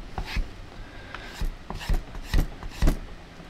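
Rough file rasping on a blade being sharpened, about five or six firm, rhythmic strokes close up, with no talk.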